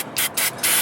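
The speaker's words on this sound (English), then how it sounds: "I did that spray of that anti-corrosion back there" Three short aerosol bursts of anti-corrosion spray hiss onto the front wheel hub of a 2001 Buick LeSabre, each a loud, close blast with brief pauses between.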